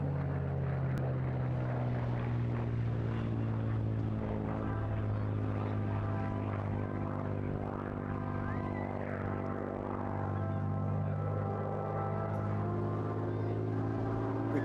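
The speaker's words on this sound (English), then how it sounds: "we have the Spirit of Kent, Tango Alpha 805, a Mark 9 Spitfire" A Mark 9 Spitfire from 1944, Spirit of Kent, flies at an airshow, its propeller engine droning loud and steady throughout, rising and shifting slightly in pitch as it passes.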